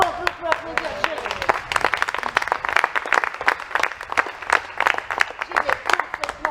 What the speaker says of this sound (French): Bravo, on peut applaudir Jane.